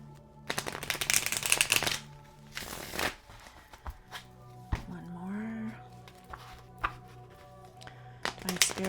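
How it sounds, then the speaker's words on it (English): A deck of oracle cards is shuffled in quick riffling bursts, with crisp flutters and taps between, close and fairly loud, with a voice speaking now and then. "I like to do 3 shuffles."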